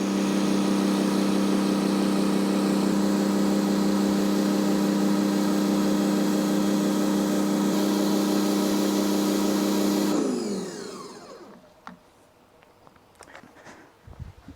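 A gas pressure washer drives a 15-inch surface cleaner over a concrete sidewalk or driveway with a loud, steady whirring engine drone that shuts down and winds down near the end, followed by faint clatter and handling noises.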